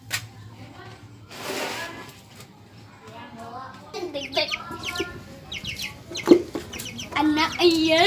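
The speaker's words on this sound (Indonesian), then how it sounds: "Anak ayam." Chicks and chickens cheep and cluck in bursts through a domestic scene, with a voice and other talk mixed in and a sharper peep near the end.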